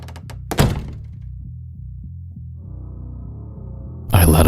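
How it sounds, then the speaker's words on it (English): A sharp door thunk lands near the start after a few small knocks, followed by a low droning hum and a louder rumble at the end, in a scary story about a roommate leaving a room. "I then heard the sound of the door"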